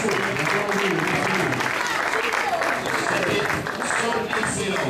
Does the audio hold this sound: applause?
yes